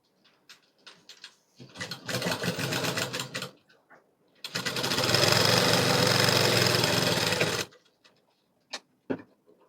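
A sewing machine stitches a joint in a petticoat in two bursts: a shorter run, then a longer steady whir lasting several seconds, with brief clicks and pauses between.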